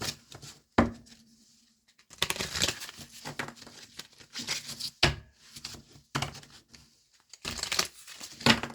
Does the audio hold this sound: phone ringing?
no